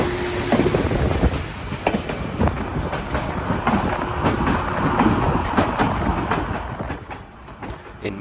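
White Pass Railroad train rolling along mountain tracks near Skagway, Alaska, a steady close rumble with faint rhythmic clicks and wind noise running throughout, no voices.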